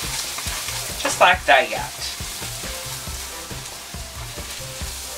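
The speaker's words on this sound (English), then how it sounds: "you're going to add 4 tablespoons of flour to this. And you're going to mix it around until it's well blended" Flour being stirred into browned ground beef in a hot pan: a steady sizzle with a repeated scraping rhythm from the spoon, plus a couple of louder scrapes early on, while a voice speaks briefly over it.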